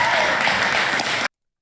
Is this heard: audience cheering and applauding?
yes